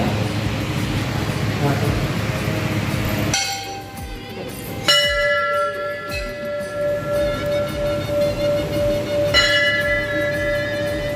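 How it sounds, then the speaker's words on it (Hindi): A bell at Jai Stambh in Baradera rung over and over, clear ringing strikes that begin partway through and hold long sustained tones, following a stretch of noisy rumble. "बहुत बार घंटी बजा रहे पक्कू।"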